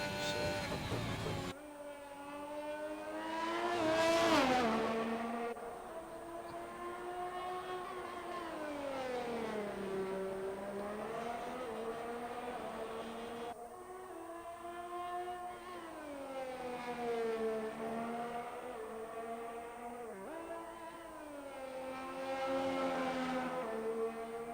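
Race cars on a track roar past with rising and falling engine pitch, revving and doppler sweeps repeating across the clip, moderately loud and without talk.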